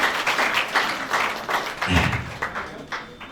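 Applause welcoming the chief at a school function, a crowd clapping in uneven bursts, moderately close, with a brief low thump partway through.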